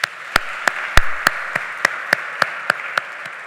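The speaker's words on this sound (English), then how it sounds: "Give yourselves a round of applause." An audience applauds at the close of a conference's plenary session, with crisp individual claps falling in an even, steady rhythm over a low room hum, moderately loud and without voices.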